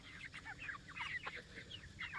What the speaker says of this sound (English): that chicken there is drinking. They're all drinking out of it.